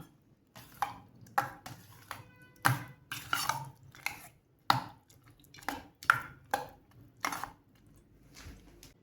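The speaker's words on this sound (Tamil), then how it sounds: "கரண்டி வச்சு கிளறி கொடுத்துக்கலாம்." Ladle stirring tempered curd rice in a pot, with a series of sharp clinks and scrapes in an irregular rhythm, close and fairly quiet.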